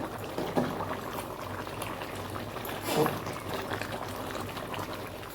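Khichuri with dal bubbling in a pot, a soft continuous boil with gentle liquid burbling and a couple of louder swells, quiet and close with no talk.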